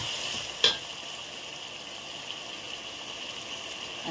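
Fish, tomato and green chilli frying in a pan for a fish fry, a steady hiss of sizzling oil with one brief clack of a spoon being stirred, alone and close.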